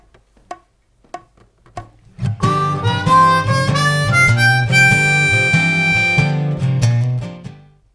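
Blues shuffle lick on a C harmonica: a few short, sharp breathy chugs, then a sustained run of bending, wailing notes in a swinging rhythm, loud and close.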